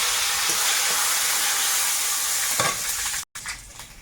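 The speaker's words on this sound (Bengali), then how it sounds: "তেলে একটু পাঁচ ফোড়ন দিই তেজপাতা" Panch phoron spices and a bay leaf fry in hot oil, giving a loud, steady, close-up sizzle that runs throughout, with a brief dropout near the end.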